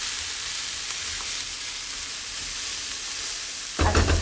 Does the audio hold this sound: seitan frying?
yes